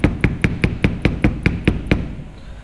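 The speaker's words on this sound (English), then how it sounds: "use the soft hammer just to tap it in evenly" Soft hammer tapping a front hub bearing into place on a Maserati Biturbo, nine evenly spaced sharp knocks in quick succession, close and clear, then fading ring.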